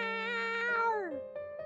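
A pet cat gives one drawn-out meow that bends downward at the end, loud and close, followed by faint shorter mews.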